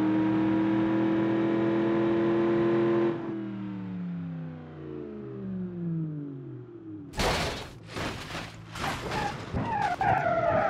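In BeamNG Drive, a Russian car on a ramp revs hard, its engine note climbing and shifting, then breaks into loud bursts of tire skidding and squeal near the end.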